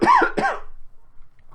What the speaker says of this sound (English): Excuse me, I just need to cough.